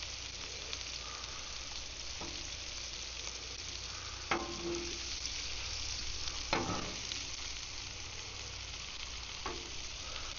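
Mahi fillet fries in a hot pan for blackened fish, a steady soft sizzle with a few sharper pops and crackles scattered throughout, no voices.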